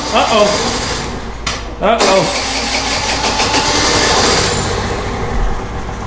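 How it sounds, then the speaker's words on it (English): A hard-starting Vespa scooter engine fires on sprayed ether, sputtering and revving loudly up close before settling into a steady, rough running drone. "So it's running on the ether that we just sprayed in there."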